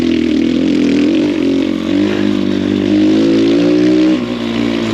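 An X Pro Storm 150 DLX dual sport motorcycle, still being broken in, drones steadily on a rocky, rooty trail ride, its single-cylinder engine held at moderate revs with small pitch shifts, loud and close throughout.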